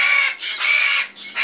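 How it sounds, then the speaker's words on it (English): A military macaw screams for attention in harsh, loud, drawn-out squawks, three raucous calls in quick succession at close range with no talk. "You see, now the other one is screaming for me."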